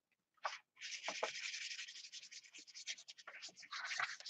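A credit card scrapes acrylic paint onto an artist trading card surface, giving a close, soft, continuous rasping scratch in uneven strokes after a brief first swipe, with no talk.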